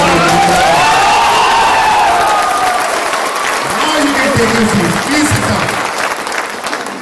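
Audience clapping fills a live-streamed business seminar hall in a dense, steady wash, with a voice talking loudly over it throughout.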